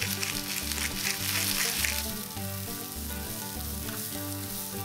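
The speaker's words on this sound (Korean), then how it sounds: "후라이팬에 식용유를 두르고 양파를 볶습니다. 그리고 당근을 넣고 볶습니다." Onions and carrots stir-fry in oil in a frying pan, a steady close sizzle with occasional stirring scrapes and a low repeating hum underneath, no voices.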